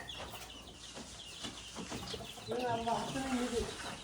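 Hens and small chicks cluck and peep near a roadside vegetable stall in Saudi Arabia, the calls growing louder and more tonal toward the end, with people talking in the background.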